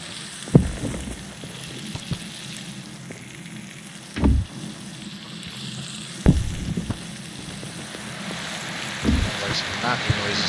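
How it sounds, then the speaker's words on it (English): Steady hiss of rain outside in the video game Prologue: Go Wayward, with a few louder thumps and clatters breaking through at intervals. "It's rain outside."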